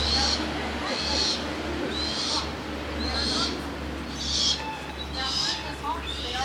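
A one-year-old hawk, a captive bird of prey, calls loudly for food with piercing, repeated cries about once a second, close by, while voices murmur faintly in the background.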